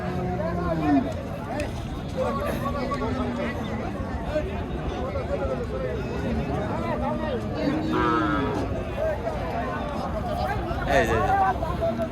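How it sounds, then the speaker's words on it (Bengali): Bulls at a busy cattle market low repeatedly, with several long moos rising and falling, some near and some farther off, over a steady babble of people talking. "দেখেন সুন্দর কোয়ালিটির ষাঁড়।"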